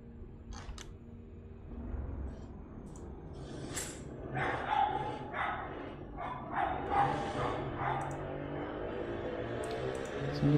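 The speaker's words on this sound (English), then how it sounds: "Somebody put a muzzle on that dog." A dog barks in a run of sharp yips and woofs through the middle and end, moderately near but fairly faint, over a low background hum.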